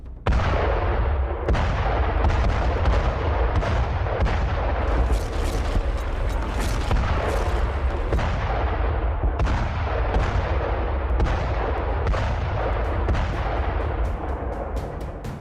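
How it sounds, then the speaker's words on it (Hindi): Indian Army Bofors artillery howitzers fire in a rapid series of deep booms, roughly one every second or so, loud and echoing, with no voices. "इस तरह तोप के वार का मतलब है दुश्मन की तबाही।"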